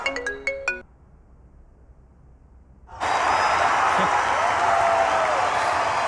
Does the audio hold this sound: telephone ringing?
yes